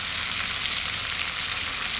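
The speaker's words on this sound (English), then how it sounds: "but man, this is starting to sizzle" Steady, loud sizzling of Polish kielbasa and yellow onions frying in a hot skillet on a wood gas stove, a continuous crackling hiss with no voices.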